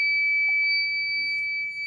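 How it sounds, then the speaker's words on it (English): A steady high-pitched leak alarm buzzer tone sounds continuously, with faint background noise and a few soft clicks underneath. "And for the buzzer to stop,"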